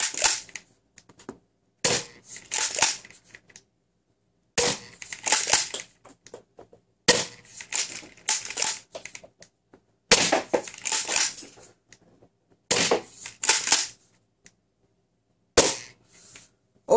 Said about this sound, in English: I'm gonna shoot 6 or 7 ghost dart as always in it